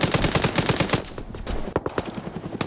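Rapid gunfire in a military video game, shots cracking off in quick repeated bursts, loud and close, with a few sharper single reports near the end.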